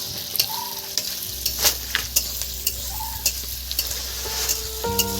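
Chilli chicken with coloured capsicum sizzles and fries steadily in a pan, with a continuous hiss and occasional utensil taps and stirring scrapes, close and fairly loud, no talking.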